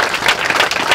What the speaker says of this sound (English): Can we give Mark a round of applause